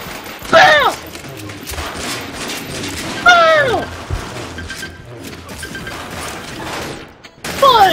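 Video game gunfire, with a few loud bursts of shots and crashes mixed with swooping electronic game effects and a speaking voice.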